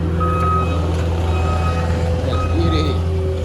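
Steady, repeated reversing beeps from a concrete truck at a backyard concrete pour ring out over a constant low engine rumble, with voices talking nearby.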